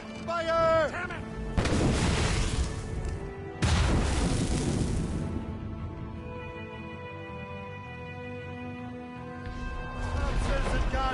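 Heavy ship cannons fire in a naval battle in Assassin's Creed Rogue, with two big booming volleys and rumbling tails. Smaller blasts and shouted commands come before and after.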